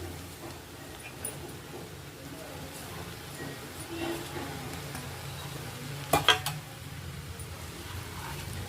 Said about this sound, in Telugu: నానబెట్టుకున్న సగ్గు బియ్యం వేసుకుంటున్నాను